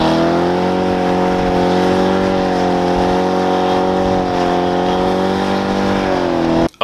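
A car tire burnout: a loud, sustained engine roar holds steady for several seconds, with a continuous harsh drone and slight pitch shifts, cutting off abruptly at the end.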